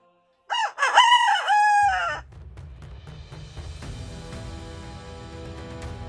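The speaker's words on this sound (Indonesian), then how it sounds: "Apabila kalian mendengar suara ayam berkokok" A rooster crows once, loud and close, with a ringing cock-a-doodle-doo that fades into a steady low background hum.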